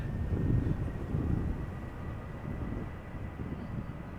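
A KLM Boeing 737-800 departs Amsterdam Schiphol with a broad, steady engine roar heard at a distance, rumbling low and even throughout with no talking.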